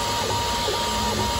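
The belts and stepper motors of a Voron 0.1 3D printer whir at speed in a steady, loud mechanical drone with faint whining tones and no pauses.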